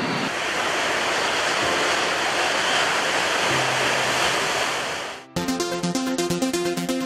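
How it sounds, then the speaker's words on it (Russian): Ocean waves roll in New York Harbor near Manhattan's Battery on the way to the Statue of Liberty, a loud, steady broadband surf roar for about five seconds before music abruptly takes over. "Ого, вот это волны."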